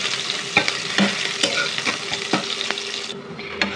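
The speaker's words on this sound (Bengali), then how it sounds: "তেলটা তেতে আসলে এই যে পেঁয়াজগুলো আমি দিয়ে দিচ্ছি। পেঁয়াজটা একটু লাল লাল করে ভাজি করে নেব।" Onions hit hot oil in a wok, giving a loud, bright sizzle close by, with regular spatula scrapes and taps as they are stirred.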